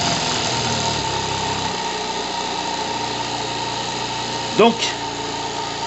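A live steam engine model runs steadily at high speed, producing a continuous dense mechanical hum and rapid chuffing throughout, with someone speaking French briefly over it near the end.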